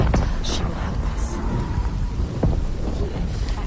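Thunder and rain in the video game Senua's Saga: Hellblade 2, a steady downpour hissing on surfaces with several sharp thunder cracks and rumbles rolling through the storm.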